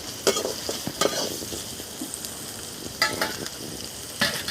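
Garlic sizzling in hot oil while being stirred for a Tamil village-style crab masala, with repeated scraping stirs over a steady fry crackle.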